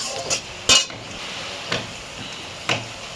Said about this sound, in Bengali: ভাজা হয়ে গেছে, এক এক করে এবার আমি মশলাটা দিয়ে দেবো।